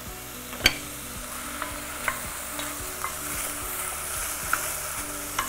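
Meat sizzling and frying in a pan for tas kebabı while a spoon stirs and scrapes it, with a few sharp clicks against the pan over a steady close sizzle.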